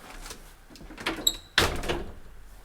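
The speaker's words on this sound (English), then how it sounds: "I'm gonna close this door." A door is pushed shut at close range, with a short scrape followed by a firm thud of it closing, over a faint background hiss.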